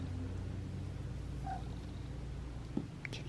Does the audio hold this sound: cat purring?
yes